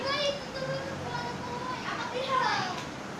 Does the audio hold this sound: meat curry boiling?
no